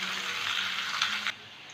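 Cubed squash frying in a pan with onions, a steady, fairly loud broadband sizzle that holds evenly and then drops off abruptly near the end, with no voices.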